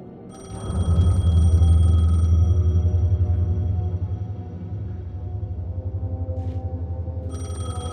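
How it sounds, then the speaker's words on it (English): A telephone rings in the video game Alan Wake 2, its repeated electronic trill clear and fairly loud over a low droning ambient rumble, stopping midway and starting again near the end. "phone was ringing."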